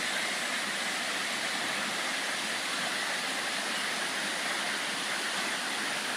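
A waterfall at Kalonsing pool in Tubura, Cebu gives a loud, continuous roar of rushing water, a dense, unbroken wash that fills the scene with no pauses or other sounds.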